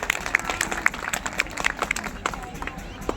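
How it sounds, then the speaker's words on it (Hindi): A crowd at a charitable blanket distribution event claps in an uneven patter of distinct claps, with voices murmuring underneath. "लिए एक बार जोरदार ताली में चाहता हूँ।"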